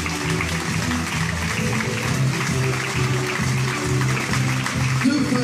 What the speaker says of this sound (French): on peut les applaudir très fort et vous entendre